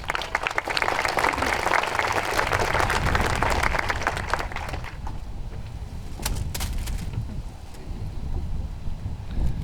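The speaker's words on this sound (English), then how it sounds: "Let's give him a warm welcome applause" An outdoor crowd at a park ceremony claps in a broad burst that thins out after about five seconds, with wind buffeting the microphone and scattered claps trailing off.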